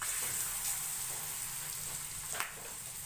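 Moringa (malunggay) leaves dropped into hot cooking oil, a faint steady sizzle and hiss from the pan with a soft clink near the end, no talking.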